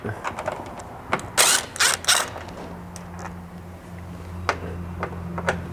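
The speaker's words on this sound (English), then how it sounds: "you're going to need to remove the 4 M6 bolts here at the back of the roof using a T40 torque socket." A T40 torx socket on a ratchet backs out M6 bolts from the rear of a Polaris Ranger roof, giving close, intermittent ratcheting clicks and mechanical creaks in short bursts over a low background hum.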